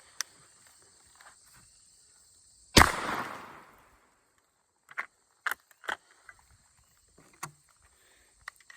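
A 20 gauge shotgun fires a reloaded 7.5 birdshot shell: one loud, sharp blast at close range with a short rumbling decay, followed by a few faint clicks and handling sounds.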